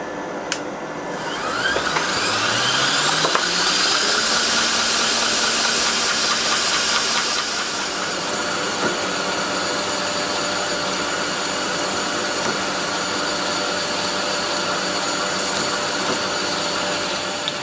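A belt grinder runs up to speed and holds a loud, steady whining hiss while knife scales are sanded on a worn fine-grit belt, continuous and close with no speech.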